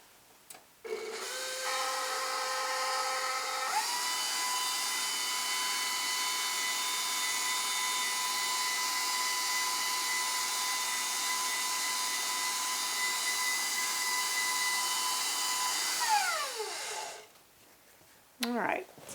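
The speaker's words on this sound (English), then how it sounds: "So what we're going to do is we're going to take this over to the mixer now." A stand mixer with a pasta roller attachment rolls out fondant for a two-tier Christmas cake. Its motor kicks on with a steady whine, shifts up in pitch, runs evenly for about fifteen seconds, then winds down and stops.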